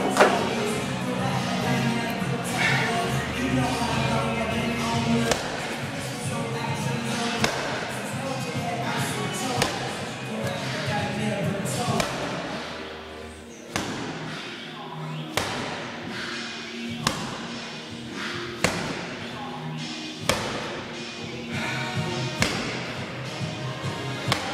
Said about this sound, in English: Ball slams, mate.